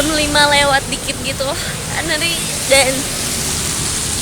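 Sudden rain falling outside on a dark evening, a steady broadband hiss running throughout under a person talking.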